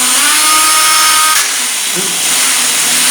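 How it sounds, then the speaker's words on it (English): A loud, steady high-pitched whine of a power drill spinning the magneto shaft of a Matchless Model X motorcycle, dipping briefly partway through before running on at full speed. "So I'm just putting the drill on the shaft of the magneto, and then we'll turn it."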